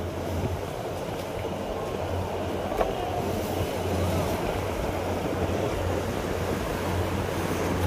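Steady rush of sea waves surging and washing against a concrete port ramp, with a constant low engine hum underneath and no voices.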